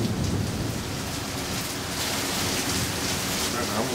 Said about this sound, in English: Here's a little thunder right now.